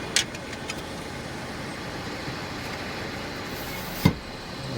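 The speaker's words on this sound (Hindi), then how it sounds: "ये आर्मी वालों की गाड़ी है, महिंद्रा डिफेंस।" Mahindra Defence army vehicle on a mountain road, a steady close engine hum with a couple of brief knocks, including a sharp one near the end, and no talking.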